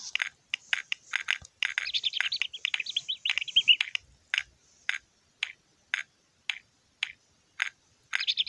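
Hungry cartoon chicks in a Peppa Pig game cheep in busy overlapping chirps. The chirps thin out into evenly spaced single peeps about every half second, close and clear, with no talking.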